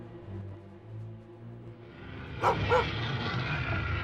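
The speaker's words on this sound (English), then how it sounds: "I just barked at Ralph." A dog gives a couple of quick sharp barks in a film scene beside a huge bear, loud and close, following a low rumbling background.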